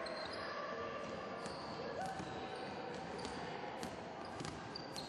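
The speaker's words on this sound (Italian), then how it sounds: "Otto palleggi per non aver fatto nulla." A basketball dribbled on an indoor court during a youth team practice, faint repeated bounces under a steady wash of gym noise, squeaks and distant voices.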